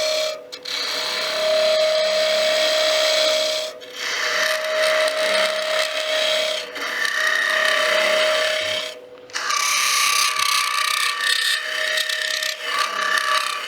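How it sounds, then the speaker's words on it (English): A woodturning tool hollowing a hardwood box on a lathe chatters with a harsh, steady scraping whine, broken by short gaps between passes, loud and close with no voices. "that annoying sound is the tool letting me know it's being abused"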